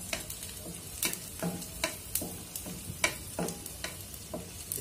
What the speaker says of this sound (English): When the garlic is frying, add a little amount of cumin seeds.